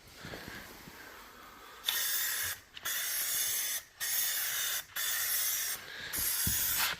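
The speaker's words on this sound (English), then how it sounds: "So I got this sprayer. It makes it a lot easier to spray evenly." A handheld paint sprayer hisses in five separate bursts of roughly a second each, with short pauses between them, loud and close, while coating a mill building in light coats.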